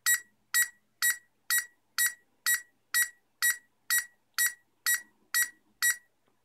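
Arduino Uno burglar alarm sounding a steady series of about thirteen sharp, high-pitched electronic beeps at an even half-second rhythm while arming, loud and close with no talking.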